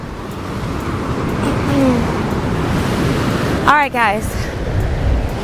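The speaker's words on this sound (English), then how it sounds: "Oh, that water's getting close to me." Ocean waves wash in close by with a steady broad surf roar, while a person talks over it.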